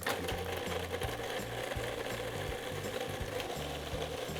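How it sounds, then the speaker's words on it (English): Food processor running steadily while mincing garlic cloves with olive oil, a loud, close, continuous whirring drone with a rattling, pulsing low motor tone and no talk. "we're gonna take our garlic cloves in the food processor, and we're gonna do about 1/4 cup of olive oil. And we're gonna mince this together."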